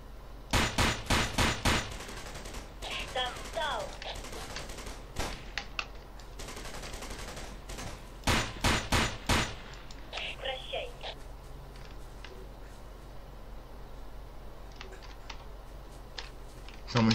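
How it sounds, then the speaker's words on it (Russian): Gunfire in Tom Clancy's Ghost Recon: Desert Siege comes from behind and ahead in sharp rapid bursts and single shots. Quiet gaps separate the bursts, and a low voice murmurs between them. "Блять, и сзади, и спереди стреляют."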